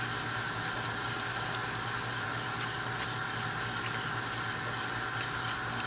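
A pot of liquid boils steadily on the stove while dinner is cooked, giving a constant, moderately close bubbling hiss with faint clicks and no talking.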